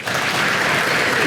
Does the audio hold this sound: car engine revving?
no